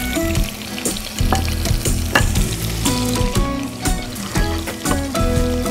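Cauliflower pieces fry in hot oil with a steady, loud crackling sizzle, broken by clinks and scrapes of a utensil stirring and turning them.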